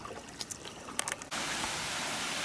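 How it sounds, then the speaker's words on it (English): Water rushing at the top of a waterfall, with a small pool and running stream: a brief spell of trickling, then a sudden steady, loud broadband rush that continues to the end. "I think we're at the top of the waterfall here."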